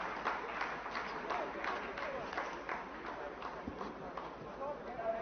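Scientists at mission control applaud during the Chandrayaan-3 lunar landing, just after a descent phase is completed. The clapping is a steady, fairly faint patter, with a murmur of voices mixed in.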